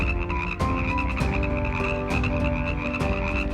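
Frogs and toads croak loudly and close, a dense chorus of rasping, pulsing calls with sharp repeated bursts layered over a steady droning hum, with no voices.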